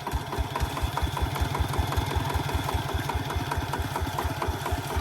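A Kubota farm tractor engine labours uphill with a steady, rapid thumping beat. The mid-pitched chugging holds fairly loud and close throughout with no talking.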